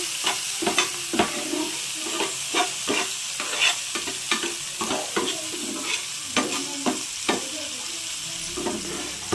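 Sandwich filling stirred in a hot pan with a spoon, producing regular scraping strokes roughly once per second over a continuous light sizzle, close and fairly loud with no talking.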